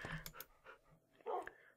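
Tamed dogs in Minecraft make brief panting and whimpering sounds, a few soft short bursts that are faint and close, with quiet gaps between them.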